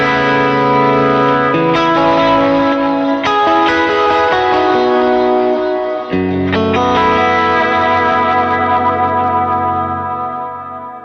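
Electric guitar played through delay and reverb pedals locked to tempo, sustained chords and notes ringing out with rhythmic repeats and a long washy decay, loud and alone.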